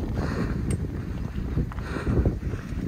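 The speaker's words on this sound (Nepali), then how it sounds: "यो हावा सिरिरिरिरिरि हावा" Wind buffets the microphone while cycling through a rural village in Japan, a steady, close low rumble with gusty swells and no talking.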